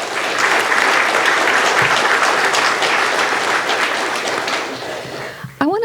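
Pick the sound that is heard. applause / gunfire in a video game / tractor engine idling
applause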